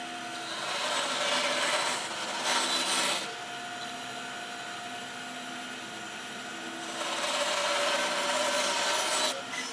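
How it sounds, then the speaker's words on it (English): A bandsaw cuts wooden easel legs with a steady, loud buzzing rasp. The cut swells in two heavier passes at the start and near the end, with a lighter whir running between them. No one speaks. "I'm going to cut these on the bandsaw"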